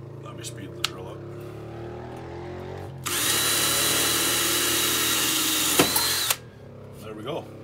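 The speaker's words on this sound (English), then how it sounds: "Let me speed the drill up." Power drill spinning up to high speed with a 1/8 bit, boring a hole into a Pit Boss pellet grill for a front shelf install; a loud steady whine runs for about three seconds, starting abruptly after quieter talk and then cutting off.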